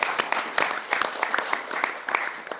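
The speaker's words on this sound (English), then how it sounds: "let's give him some applause" Conference audience applauding in a hall, a moderate, steady patter of many clapping hands with some voices mixed underneath.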